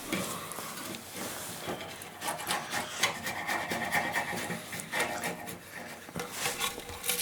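A sandpaper stick is worked over a divisible composite wood mast in steady, continuous rasping strokes. The rubbing stays close and fairly loud, with no voice over it.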